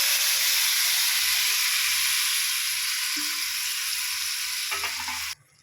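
A kilo of tomatoes frying in hot oil with turmeric for a tomato pickle gives a loud, steady sizzle and hiss that runs unbroken, then cuts off abruptly near the end.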